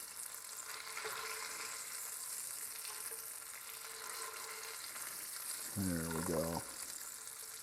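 Bacon and egg omelette sizzles steadily in a frying pan, a constant close crackling hiss, with a soft voice briefly speaking over it.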